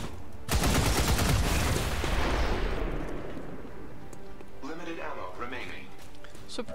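Gunfire in the XCOM 2 video game: a loud, dense burst of rapid automatic shots that fades into a decaying rumble, followed by a short stretch of talking.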